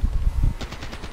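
Fast sharp gunshots from the German GOL sniper rifle in a shooter video game, several quick reports in a tight rhythm with short echoing tails, close and loud.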